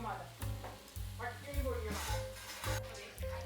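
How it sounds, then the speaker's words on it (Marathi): Onion, cashews and tomato sizzle in a kadhai, a close, crackling fry broken by stirring clatter against the pan, with a voice briefly talking over it. "काजू आणि टोमॅटो घालूयात."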